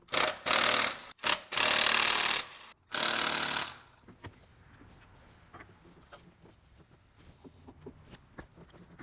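Bursts of a loud whirring power tool, several in a row with short gaps, while working on spark plugs in a truck engine, then quieter clicks and handling noises.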